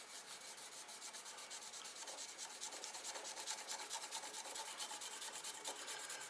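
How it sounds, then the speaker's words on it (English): A marker rubbed back and forth over the top of a workpiece for a CNC printer build, giving a steady, close, dry rasping scrape that continues evenly throughout with no speech. "I'm just going to rub the marker over the top"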